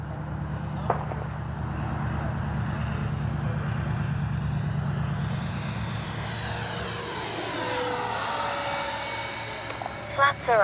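A Freewing F-22 Raptor 80mm RC jet passes with landing gear and flaps down, its ducted-fan whine rising to a loud high-pitched roar that sweeps downward as it goes by. A voice talks over it.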